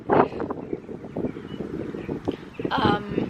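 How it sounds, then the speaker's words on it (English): Wind gusts buffet a microphone outdoors in broadband rushing bursts, strongest at the start and near the end, with a person talking intermittently underneath. "The wind's picking up"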